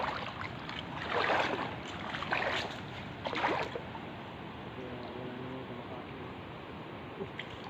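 Rough sea water slaps and surges around a small boat, with a few louder splashing bursts early on, then a steadier wash beneath a faint voice.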